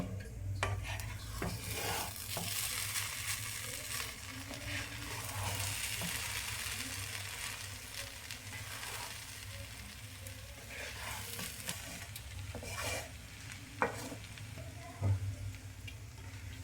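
Egg biryani is stirred in a cooking pot, a spoon scraping and clinking against the metal over a soft continuous sizzle, close and steady with a few sharper knocks near the end.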